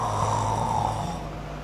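A sleeping person snores in one long, loud, rasping drone that stays close and steady before easing slightly at the end.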